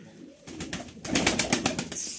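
Pigeons cooing in a loft, a short burst of soft, throaty rhythmic coos and flutters, close and clear, with no talking.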